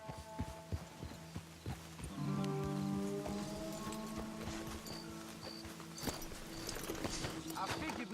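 Horse hooves clip-clopping along a road in Red Dead Redemption II, a steady rhythmic trot, fairly quiet beneath game music and ambient sound, with people talking over it.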